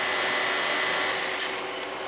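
A freeze dryer runs with a constant, loud mechanical whir and hiss, steady throughout with a brief higher burst partway through.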